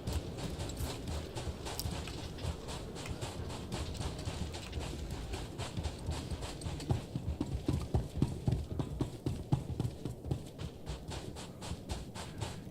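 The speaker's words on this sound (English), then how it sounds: "You can hear the change in footsteps as you go across different terrains." Character footsteps crossing changing terrain in Star Wars: The Old Republic, a steady run of close, rhythmic clip-clop steps over a busy game soundscape, growing sharper and more percussive partway through.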